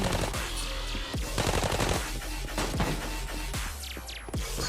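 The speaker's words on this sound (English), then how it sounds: "Someone's shooting at me." Rapid automatic rifle fire in Arena Breakout, a dense string of sharp close gunshots with irregular bursts and pauses, loud throughout, no talk.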